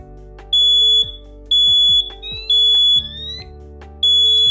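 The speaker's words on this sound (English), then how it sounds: "So there our 1168 is going off" A DMP 1168 wireless smoke detector goes into alarm during a canned-smoke test, emitting loud, piercing electronic beeps in a regular on-off cadence of about half-second pulses, close to the microphone with no talking.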